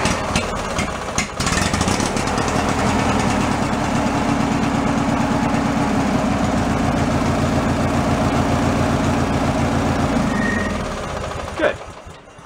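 A Craftsman riding mower engine starts after a clatter of cranking, then runs at a steady, loud idle with a low throbbing drone. It winds down near the end with a short metallic clunk.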